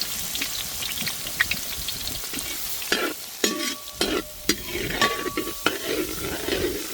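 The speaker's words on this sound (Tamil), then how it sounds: "அதை நம்ம இப்போ எண்ணெயில் சேர்த்துக்கிறோம்." Finely chopped onions hit hot oil in a pan and sizzle steadily, with stirring clatters and scraping of a utensil against the pan over several seconds, close and fairly loud, no talking.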